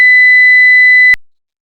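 A pure 2000 Hz sine test tone from a hearing test holds one steady, loud, high-pitched whistle for just over a second, then cuts off abruptly into silence.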